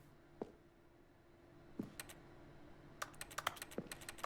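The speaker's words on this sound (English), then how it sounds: "I appreciate that the interact sound is just keyboard clacks." Keyboard clacks serve as the interact sound in The Stanley Parable Ultra Deluxe, a video game. A few isolated, fairly quiet taps come first, followed by a quick cluster of key presses with no talking.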